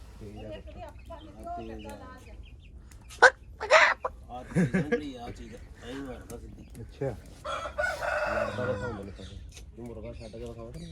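A red desi rooster crows loudly a couple of times amid people talking nearby, with other fowl faintly audible in the background.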